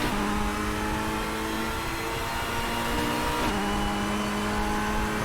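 A DTM race car in the RaceRoom video game pulling away at a race launch, its engine droning steadily and loudly, the pitch shifting as it changes gear, with no talk.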